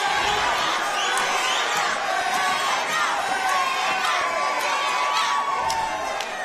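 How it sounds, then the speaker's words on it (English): A mixed martial arts crowd at a USFFC event chants and shouts for fighter Hannah Rokala, a loud, continuous wall of voices with rhythmic bursts of cheering from start to finish. "The crowd is chanting for their favorite,"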